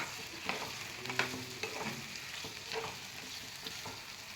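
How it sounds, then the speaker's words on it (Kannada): Marinated soya chunks frying on high flame in a pan, a steady crackling sizzle broken by scraping stirs at a close, moderate level, with no one talking. "ಇವಾಗ ಇದನ್ನು ಚೆನ್ನಾಗಿ ಫ್ರೈ ಮಾಡ್ಕೋಬೇಕು."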